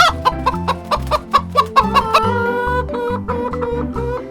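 Rooster and hen clucking on a farm, a rapid series of sharp, rhythmic clucks that gives way to longer drawn-out calls, loud and close with no talking.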